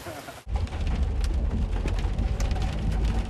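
Heavy rain during a UK heatwave thunderstorm, beginning with a brief quiet moment before a dense, loud hiss of downpour sets in and continues steadily with low rumbling underneath.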